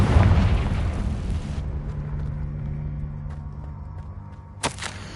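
A Confringo fire spell explodes in Hogwarts Legacy, a loud booming blast that decays into a long rumbling tail, with a brief sharp pop near the end.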